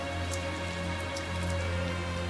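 Steady rain falls throughout in the video game Tales of Zestiria, a constant wash of drops alone with no voices, holding an even level from start to end.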